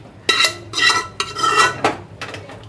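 Cooked toor dal is tipped into a pot and stirred, making several loud scraping, sloshing bursts against the metal with short pauses between them.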